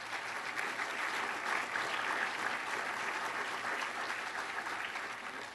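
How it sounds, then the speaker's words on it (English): An audience at a State of the County address applauds, a continuous even wash of many hands clapping at moderate distance, fairly soft and sustained for several seconds before tapering slightly at the end. "You deserve a round of applause."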